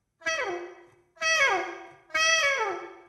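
Three separate downward glissandos on an instrument, each a bright harmonic-rich slide falling in pitch and fading, spaced about a second apart and heard alone.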